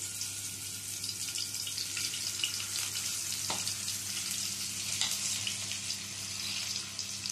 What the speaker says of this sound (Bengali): এবারে এই তেলের মধ্যে ম্যারিনেট করে রাখা এঁচোড়গুলো দিয়ে দেব।